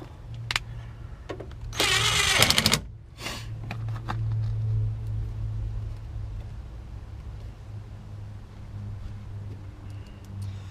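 A power driver runs bolts in while JBL GTO speakers are fitted into a Ford Ranger, with a loud whirring burst of about a second, a shorter burst after it and a few clicks, then a low hum; there is no talking.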